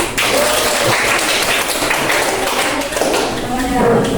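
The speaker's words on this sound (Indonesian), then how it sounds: "Tepuk tangan" Classroom applause from students after a group's chemistry practical presentation on electrolyte and non-electrolyte solutions, a steady patter of many hands clapping for several seconds with voices mixed in.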